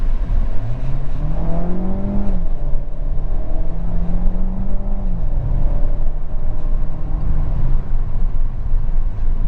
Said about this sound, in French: tu vas bien entendre le moteur thermique se mettre en route